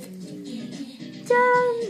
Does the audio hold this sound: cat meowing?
yes